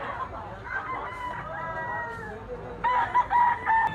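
A yellow-legged bull stag rooster crows loudly and close, a drawn-out strained call followed by sharper bursts, with farm clucking faintly around it.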